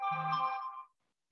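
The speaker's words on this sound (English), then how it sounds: "Sorry, my phone's going off too." A phone ringtone sounds once, a bright, near electronic melody lasting under a second before cutting off, heard alone with no talk.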